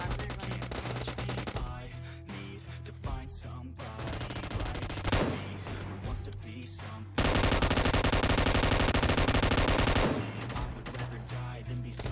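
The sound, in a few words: gunshots in video game PUBG Mobile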